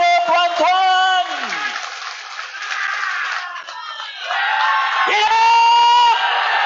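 Crowd at a political gathering in Sabah cheering and whooping with loud shouts and a brief burst of applause, voices rising and falling over several seconds.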